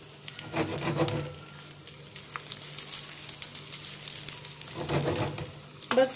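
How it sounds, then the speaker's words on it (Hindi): Chicken seekh kababs fry in a karahi over a medium flame, giving a steady, close sizzle with a few soft stirring and turning scrapes. "बस 5 से 6 मिनट मीडियम फ्लेम पर हम इनको फ्राई करेंगे।"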